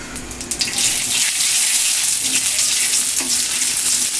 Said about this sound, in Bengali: জিরাটা একটু ভাজি হবে,